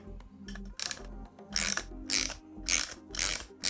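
A ratchet tightens a door handle bolt on a Chevy SSR, heard close and clear as a series of four or five bursts of rapid clicking strokes separated by short pauses.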